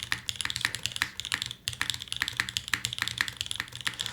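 Mechanical keys clacking on a Singa Kohaku keyboard with no keycaps fitted, a close, fast run of crisp clicks with a brief pause partway through.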